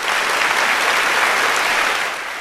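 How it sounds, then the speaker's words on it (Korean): An audience applauding a piano performance at a school recital in a film scene, a dense, steady wash of clapping that holds and then eases slightly at the close. "뜨거운 박수 부탁드립니다"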